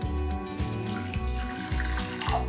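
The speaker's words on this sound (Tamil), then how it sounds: "அதாவது முக்கால் கப்பு தண்ணி விட்டிங்கன்னா கரெக்டாக இருக்கும் இந்த அளவு தண்ணி விடணும்" Water is poured into a pot holding sugar to make Diwali sugar adhirasam, a loud, close splashing stream with a rhythmic, slightly pulsing low gurgle and no talking.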